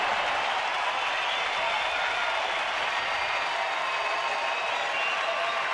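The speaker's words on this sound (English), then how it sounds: "Now this crowd gets into it, guys." A baseball stadium crowd at a San Diego versus Arizona game keeps up a steady, even roar of cheering and applause at a distance, with no single voice standing out.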